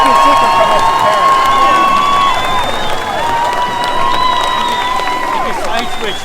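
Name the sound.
crowd of counter-protesters at a rally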